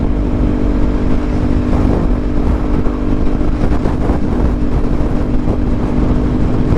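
A 2018 Kawasaki Ninja 400 engine roars loud and steady on a commute, heard from the rider's position with dense wind rush, its pitch climbing and dipping as it pulls through several gears.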